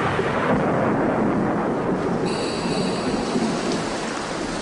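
Heavy rain pours steadily over a dry Borneo forest in the Meratus region as a thunderstorm sets in, with thunder rumbling low beneath a dense, continuous hiss of falling water, loud and close throughout.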